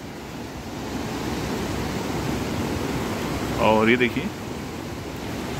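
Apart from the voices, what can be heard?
flooding Beas river rushing water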